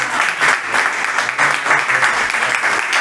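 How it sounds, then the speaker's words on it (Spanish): A church congregation claps for the Lord during a sermon, loud, close and sustained applause with a slightly pulsing rhythm, no voices on top. "¿Puede dar un aplauso al Señor?"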